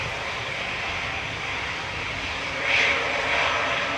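An Airbus A320neo departs Manchester Airport for Corfu, giving a fairly quiet, steady engine roar that grows slightly louder near the end, alone with no voices.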